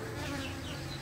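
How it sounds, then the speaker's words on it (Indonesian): Honeybee colony nesting on a house wall, a dense, continuous close buzzing hum from many bees with no voices over it. "sarang beserta keseluruhan koloni ini akan kita coba pindahkan ke dalam stup pemeliharaan"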